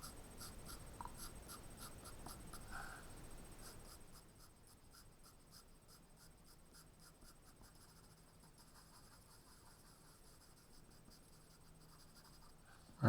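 Graphite pencil shading across drawing paper as an eye is sketched, a steady, soft scratchy rasp that is stronger for the first four seconds, then fades to a faint, quieter scraping.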